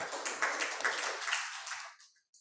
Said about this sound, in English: Please join me to give a round of applause for all 4 speakers of this panel